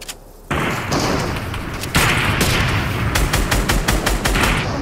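SMG fire in a video game, bursts of rapid shots and thuds following a sudden loud start, continuing in clustered volleys, with no talk over it.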